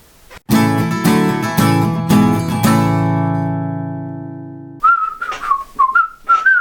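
A person whistling in imitation of a whistle for a quiz round, first a loud sustained chordal musical passage that fades, then a series of short, warbling whistled notes, close and clear with no talk.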